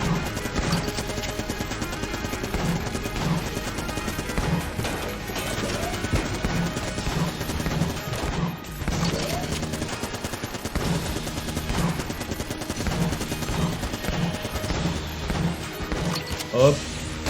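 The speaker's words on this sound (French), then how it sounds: "il tire des balles en jet, en rafale." An enemy in Enter the Gungeon firing bursts of bullets, rapid repeated shots layered over busy game music and effects, with a voice talking over the action throughout.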